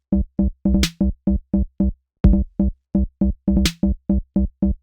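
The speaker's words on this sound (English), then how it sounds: "So it's like a 2-bar loop with just a bass drum and a snare drum." Slow two-bar drum loop of bass drum and snare with a punchy percussive bass, evenly spaced hits repeating in a steady rhythm, dry and close with brief bright accents, no voices.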